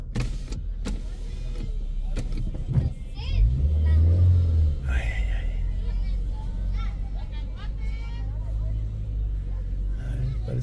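A car rolls in to park during a P'urhépecha arts contest in Zacán, its engine a steady low rumble with a brief surge, heard amid outdoor crowd murmur and nearby talking.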